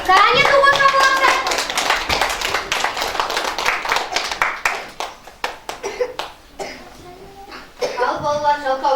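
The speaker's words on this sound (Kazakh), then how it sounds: "Кәне, дұғыл шапалақта." Kindergarten children clap their hands loudly in a dense, ragged burst that thins into scattered individual claps, with children's voices and shouting over the top at the start and end.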